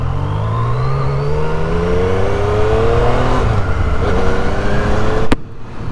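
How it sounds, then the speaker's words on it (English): A 2014 Yamaha FZ-09 motorcycle engine revs on a group ride in New York, a loud, close engine drone whose pitch climbs steadily with the revs before cutting off abruptly near the end. "I'm on a motorcycle."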